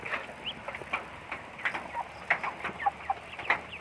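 Chickens in an early-morning village yard cluck in short, irregular bursts, a few birds close by against a quiet background.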